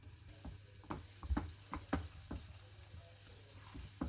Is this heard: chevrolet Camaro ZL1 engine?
no